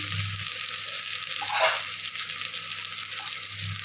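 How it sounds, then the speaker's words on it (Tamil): Onions and chicken fry in a pan for a chicken biryani, giving a steady, close, loud sizzle that continues throughout with a brief swell near the middle and no talking. "வெங்காயம் வதங்கிட்டு வெங்காயம் நல்லா ப்ரௌன் வதங்கிட்டு ரொம்ப கருணை விடக்கூடாது."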